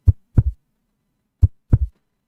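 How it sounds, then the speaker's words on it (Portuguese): Heartbeat sound effect with two clear lub-dub pairs, deep thumping beats spaced about a second and a half apart, loud and close over total silence. "coração está batendo"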